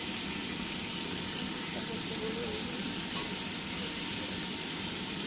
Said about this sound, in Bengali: দেখো পেঁপেটাকে নেড়ে চেড়ে ভেজে নিয়েছি, আর একটু ভাজা ভাজা হবে, এখনো হয়নি।